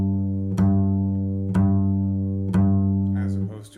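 A bass guitar string is plucked three times, evenly spaced, with the flesh of the finger, and each round, thick note sustains closely and alone before the next.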